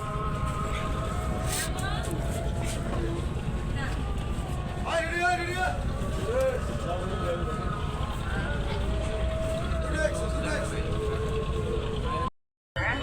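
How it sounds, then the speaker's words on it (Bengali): Engine of the Mayur-2 passenger launch on the river at a ghat between Dhaka and Chandpur, reversing away from the landing, a steady low rumble with wind noise throughout and voices talking over it. "তো মাস্টার সাহেব আবার ব্যাগার দিয়ে পিছনে নিয়ে গেল লঞ্চ"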